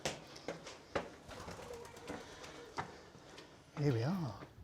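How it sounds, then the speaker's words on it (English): A pigeon coos near the top of a stairway entrance during a visit in Cardiff, Wales, a short warbling burst near the end after a series of scattered footsteps and knocks, with a person speaking nearby. "Hello, pigeon."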